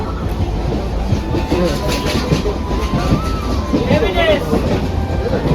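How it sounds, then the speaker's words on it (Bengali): A passenger train runs with a loud, continuous rumble and rhythmic clickety-clack of wheels on rails, heard from inside a carriage, with people's voices murmuring under the noise. "এই ট্রেনে উঠে পড়েছি"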